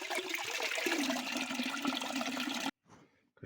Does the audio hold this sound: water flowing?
yes